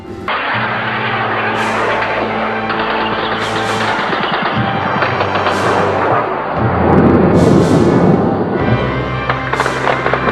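Deep booming explosions from a bombardment at an airport in the Falklands roll through a constant loud roar, heavy thuds recurring every couple of seconds with a rumbling, distorted texture.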